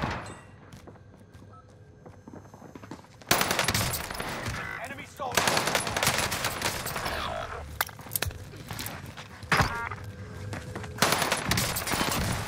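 Warzone battle-royale gunfire: after a quieter opening stretch, loud sustained automatic bursts erupt and continue in long volleys with brief gaps, close and dense, mixed with occasional thuds and footsteps and a voice talking underneath.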